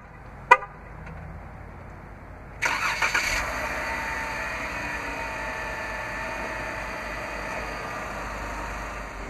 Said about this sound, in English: Just double click on the remote start button.